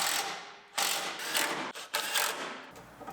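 Ratchet tightening bracket bolts during condenser work on a Honda Civic, heard as close, loud bursts of rapid metallic clicking in several strokes separated by brief pauses.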